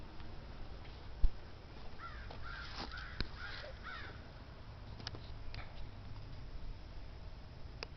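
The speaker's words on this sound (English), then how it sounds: "that sounds like a crow" A crow caws a few times in the open, harsh calls at moderate distance over a steady outdoor background hiss, with no talk.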